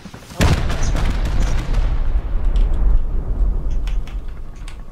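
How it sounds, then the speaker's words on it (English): A rocket blast in the game Rust hits with a heavy booming thump, followed by a rumbling roar that slowly fades, loud and near, with faint distant pops afterward. "That's rockets."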